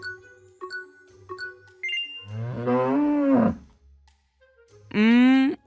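A voice imitates a cow, giving two drawn-out moos in a cartoon read-aloud, each loud and close. Light chiming tones come before the first moo, with a short quiet gap between the two calls.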